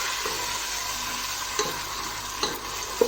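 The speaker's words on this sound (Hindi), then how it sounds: "अब हमने प्याज को मीडियम आंच पे पकाना है।" Onions fry in oil over medium heat for a beef kofta gravy, a steady close sizzle with a few light clinks of stirring on top.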